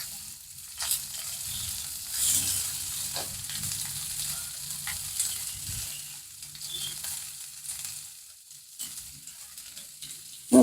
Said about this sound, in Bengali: এখানে আমি কড়াই তেল দিয়ে আর লঙ্কা ফোড়ন দিয়েছি পেঁয়াজ দিয়ে দিলাম